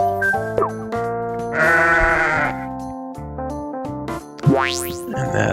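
Sheep bleat from the Shephy card game: a loud, wavering bleat over bright, bouncy game music, ending in a quick rising whistle-like sweep.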